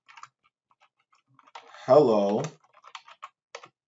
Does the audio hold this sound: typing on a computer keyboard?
yes